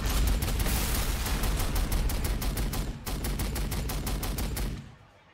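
Rapid, dense gunfire from an Imperial Knight pounding a Gorkanaut in the Warhammer 40,000: Sanctus Reach strategy game, loud sustained bursts with a brief break near the middle before cutting off into quiet.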